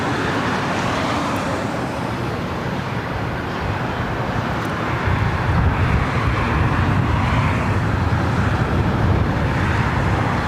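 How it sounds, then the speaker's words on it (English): A Southwest Airlines Boeing 737-700 takes off from LAX, a steady broad roar of jet engines that swells in the low end midway through, heard from a distance with wind buffeting the microphone. "This is Southwest Airlines 2979 taking off to Denver on the"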